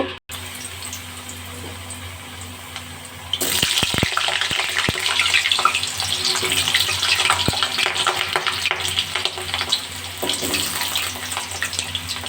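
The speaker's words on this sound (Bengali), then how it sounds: "আলুগুলো নুন হলুদ দিয়ে ভেজে তুলব" Quiet kitchen hum, then a sudden loud, continuous sizzle as potatoes with salt and turmeric hit hot oil, with a few clatters and stirring sounds.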